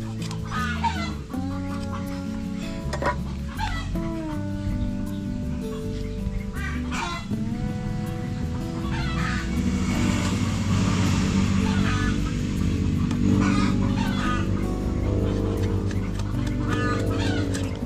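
Hens cluck and a rooster calls repeatedly, close by, with a steady low rumble and busy farmyard background throughout.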